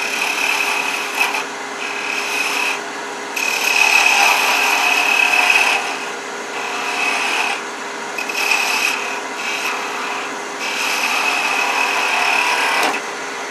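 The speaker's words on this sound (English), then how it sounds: "I'm going to switch to a quarter inch detail gouge" A quarter inch detail gouge cuts wood as a chess bishop is turned on a lathe. A steady scraping rasp comes in long stretches with brief pauses, over a constant motor hum, close and loud, with no talk.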